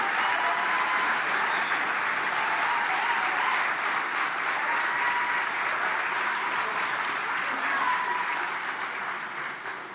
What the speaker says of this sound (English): Let's applaud these amazing heroes and sheroes